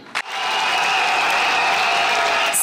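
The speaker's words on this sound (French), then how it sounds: "C'est par des applaudissements que les congressistes du RACI votent oui à la dissolution du parti." Delegates at a party congress applaud to vote yes on dissolving their party, a large hall filling with loud, steady, sustained clapping after a brief quiet start.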